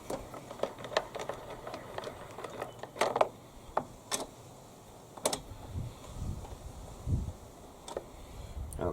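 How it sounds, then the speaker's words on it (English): A small socket undoes the recoil nuts on a Hyundai lawn mower, with faint, scattered clicks and ratcheting taps at irregular intervals against a quiet background. "undo the nuts anti-clockwise. They are down in a little recess, so I actually tend to use a little socket"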